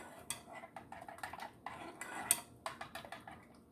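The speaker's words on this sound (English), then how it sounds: "I just use a spoon to make sure there's no chunky chunks in there." A spoon clinks and scrapes against a cup while stirring a turmeric latte, giving a quick series of light, close metallic taps and rattles, with one sharper clink partway through and no talking.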